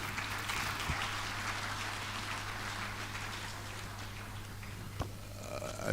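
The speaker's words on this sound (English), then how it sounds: "I will ask us to give them a round of applause" A conference audience applauds panel members at a primary health care agency launch, a dense, steady wash of clapping sustained throughout at moderate distance, with a couple of sharp knocks near the end.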